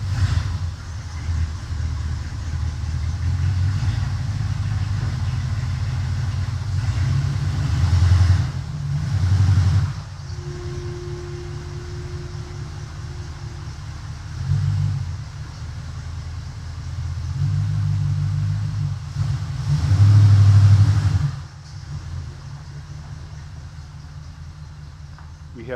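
A 1947 car is driven slowly back under a tent, its engine rumbling low and close with a few swells of revving and quieter idling stretches between.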